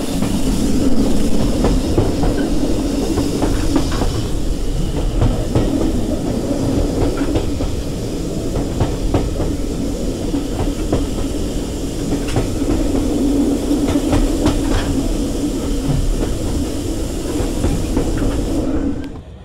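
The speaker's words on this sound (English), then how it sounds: "The 9F sounded fantastic, so I'll shut up now and allow you to have a listen." Riding in a carriage behind a BR Standard 9F steam locomotive: loud, continuous rumble with rhythmic clickety-clack of wheels over rail joints and occasional hiss, steady throughout.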